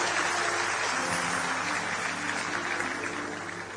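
An audience at a speech by Kumar Vishwas applauds, a dense, steady wash of clapping that fills the whole stretch and fades slightly toward the end.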